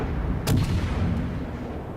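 Ship's naval guns in World of Warships, aboard the French cruiser Duguay-Trouin, fire a full salvo as one sharp, loud boom. Its rumble rolls on under steady low engine and sea noise.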